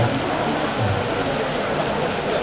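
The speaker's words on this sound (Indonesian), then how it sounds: "sampai alam pun melepas pekerjaan Agus ini dengan hujan ini" Steady rain pouring down outdoors during a ceremony, a continuous even wash of falling water heard alone at moderate level with no talking.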